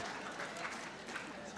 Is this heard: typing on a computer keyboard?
no